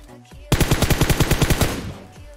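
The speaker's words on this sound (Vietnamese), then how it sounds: "Ra đây đấu súng với mình nào." A rapid burst of automatic gunfire in a video game battle, about a dozen sharp evenly spaced shots fired close and loud after a quiet start, then a fading tail.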